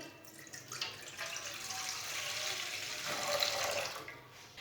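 Three glasses of water are poured into a pot for chana dal, a continuous splashing pour of moderate loudness lasting a few seconds, close and without speech.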